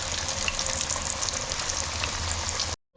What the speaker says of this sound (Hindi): तीसरी दफ़ा में जो फ़िश फ्राई हो रही है वो आपके सामने है।